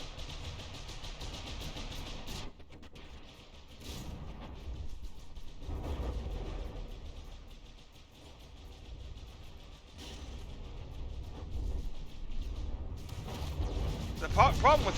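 Frag missiles launch and burst in a From The Depths frigate battle, a dense rumbling barrage of overlapping blasts and engine drone that rolls on continuously with a few sharper cracks, while a voice talks over it.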